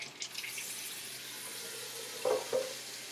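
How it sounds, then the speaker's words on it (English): Tap water runs into a cooking pot in a home kitchen, a soft steady hiss and splash, faint and even from start to end with a couple of brief louder knocks near the close. "So I'm just going to go ahead and put water in the pot."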